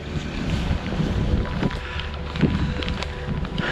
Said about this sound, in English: some winds about 35-40 mile an hour, maybe just a bit higher, gusts on the top